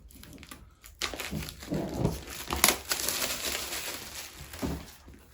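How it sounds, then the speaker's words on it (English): Polyurethane plastic wrapping is pulled off an Apple Magic Keyboard's packaging, giving close, soft crinkling and rustling bursts after a quiet opening second, without talking. "Just your standard packaging, comes in this polyurethane plastic thing over it."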